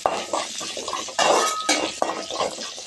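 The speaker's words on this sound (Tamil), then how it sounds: "இது நல்லா வதக்கிக்கலாம்." Small shallots and garlic frying in a pan for a horse gram curry, with a spoon scraping and clinking against the metal over a steady hiss of frying, louder stirring bursts recurring throughout.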